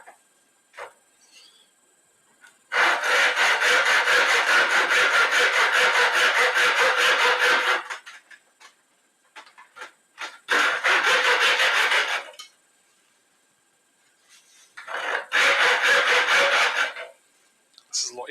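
A hand saw cuts a half-blind dovetail joint in a wooden pinboard, making three long runs of steady, rasping back-and-forth strokes that are close and loud, separated by quiet pauses with small knocks.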